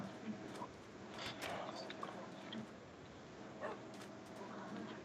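Minecraft dog yips and barks in short scattered bursts over a busy game background with a faint voice underneath.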